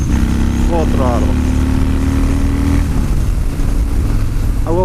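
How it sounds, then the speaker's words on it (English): A 2017 Harley Dyna Street Bob engine roars loud and close, rising and falling through repeated full-throttle revs with a steady low rumble underneath. "So let me show you what this throttle can do now. So it's 0, full throttle, full throttle, full throttle."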